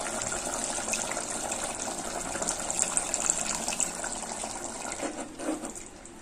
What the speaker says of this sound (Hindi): अभी हम इसमें थोड़ा गर्म पानी डाल रहे,